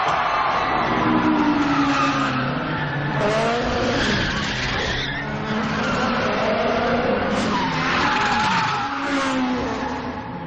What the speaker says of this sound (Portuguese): o filme também foi responsável por apresentar ao mundo o drift